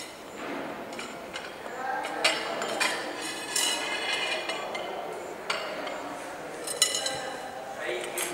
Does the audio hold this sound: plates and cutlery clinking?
yes